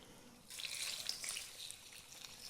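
Vinegar marinade is poured over green tomatoes in a home kitchen, a soft continuous splashing stream that starts abruptly and then tapers off.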